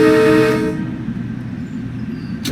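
A Metro-North M3A train horn sounds in a train simulator on the Harlem Line, one loud sustained blast that cuts off after about half a second and leaves a low rumbling engine drone.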